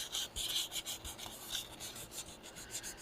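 Hand sanding of faded window pillars on a 2010 Honda Civic, a repeated rasping rub in uneven short strokes, close and fairly quiet with no talk.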